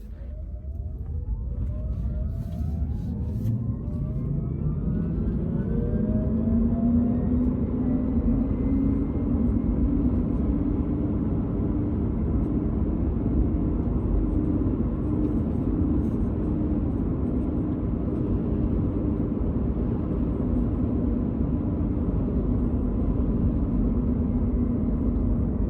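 Rivian R1T electric pickup truck driving in conserve mode, a steady rising whine with road and tire rumble building into a continuous, fairly loud hum that carries on throughout without voices.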